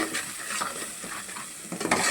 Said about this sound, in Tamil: பச்சை வாசனை போகிற வரைக்கும் வதக்கிக்கிடணும்